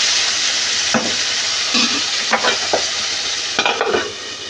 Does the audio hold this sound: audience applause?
no